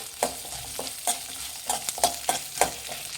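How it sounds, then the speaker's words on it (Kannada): Chillies and a tablespoon of coriander fry in a pan while being stirred, with repeated scraping strokes of the spoon rising over a soft, steady sizzle, close and fairly loud. "ಒಂದು ಟೇಬಲ್ ಸ್ಪೂನ್ ಆಗೋಷ್ಟು ಧನ್ಯ ಹಾಕ್ತಾಯಿದ್ದೀನಿ ಇದು ಅಷ್ಟೇ ಮಿಕ್ಸ್ ಮಾಡಿ"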